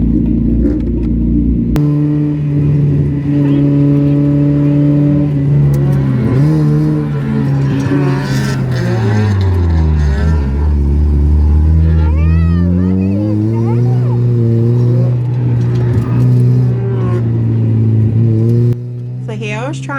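Mazda Miata drift car on a track during a drift day, its engine droning loudly with pitch rising and falling through revs, close and continuous, with faint squeals near the end.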